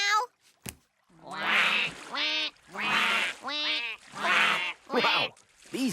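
Cartoon ducks quack loudly in a series of repeated bursts while rowing a boat across the water, the quacks closely spaced and close up, with brief pauses between groups.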